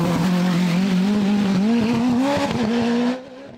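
A rally race car engine screams loud and close at high revs, its pitch rising steadily under hard acceleration on a hillclimb course, then cutting off abruptly near the end.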